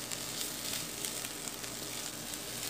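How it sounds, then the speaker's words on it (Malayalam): A banana peel and green gram stir-fry (thoran) is stirred in a pan while the water cooks off, making a steady, close sizzle with faint scraping. "നമുക്കിനി ഇതിലെ വെള്ളമൊക്കെ വറ്റുന്നവരെ ഒന്ന് ഇളക്കി കൊടുക്കാം."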